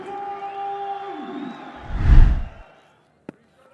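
Cricket stadium crowd at a Test match in Rawalpindi, a brief swelling roar rising and fading over about a second, following a steady tonal background hum, with a single sharp click near the end.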